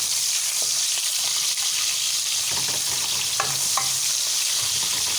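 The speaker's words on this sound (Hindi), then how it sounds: "साथ में हरी मिर्चें भी डाल देंगे ताकि वो भी अच्छी तरह से फ्राई हो जाए।" Green chilies and curry leaves fry in a pan for a chicken curry, giving a steady broadband sizzle throughout with a few light stirring clinks and scrapes near the middle.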